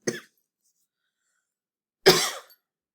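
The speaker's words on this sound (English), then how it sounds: "Sorry, having a little coughing fit here." Two separate coughs, one very short at the start and a louder, fuller one about two seconds later, with silence between and no talking.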